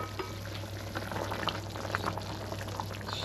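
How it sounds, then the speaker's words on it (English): Pasta simmers in a pot of boiling water, a steady bubbling burble that runs quietly throughout with small pops and gurgles rising from the surface. "we turn the pasta ring down now to simmer"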